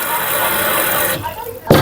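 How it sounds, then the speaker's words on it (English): Tap water runs into a cooking pot being readied for rice, a loud close rushing fill that cuts off near the end, followed by a short knock. "I need more water in this pot."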